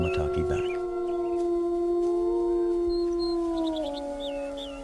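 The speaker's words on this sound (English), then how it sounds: "Their howling takes on a mournful, searching quality" Wolves in the wild howl mournfully and searchingly, several long sustained voices overlapping and gliding in pitch, loud and fairly near, with a few higher yips and whimpers breaking in, and no talking.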